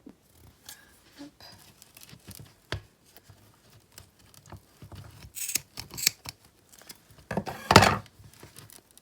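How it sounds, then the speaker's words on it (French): Scissors snip through strands of a doll's wig hair, a series of quiet, irregular cuts that grow into louder, quicker snips near the end. "Alors, mes ciseaux."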